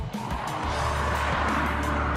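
Road traffic in the UK, where cars keep to the left, rolls past as a steady, dense roar of engines and tyres that fills the whole stretch without a break.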